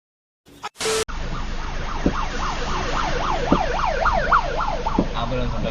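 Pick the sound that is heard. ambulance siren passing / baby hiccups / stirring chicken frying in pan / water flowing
ambulance siren passing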